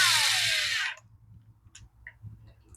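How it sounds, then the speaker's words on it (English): A power driver runs a screw into the Echo SRM210 trimmer's carburetor, one high, whining burst that winds down and stops after about a second, followed by faint clicks and handling sounds. "I'll put the next screw in"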